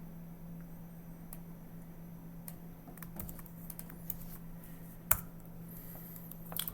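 Keys tapped on a computer keyboard while a password is entered, a few light, scattered clicks over a steady low electrical hum, with one sharper click near the end.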